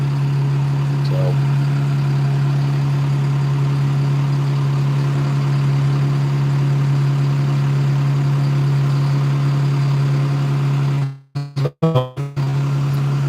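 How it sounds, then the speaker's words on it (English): A vacuum truck pumps out a septic tank during a home inspection for a sale, its engine humming in a steady low drone for most of the stretch before a few abrupt clunks and dropouts near the end. "we're just pumping this tank."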